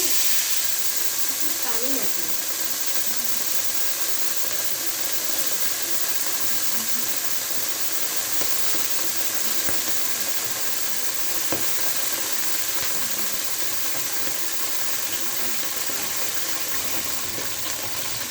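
Chopped onions fry in hot oil in a wok with a constant, dense sizzle and hiss that holds steady throughout.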